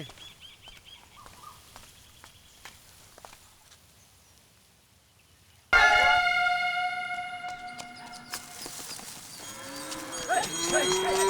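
Cattle moo a few times against a busy outdoor background, with bird calls and clattering noises joining loudly in the second half.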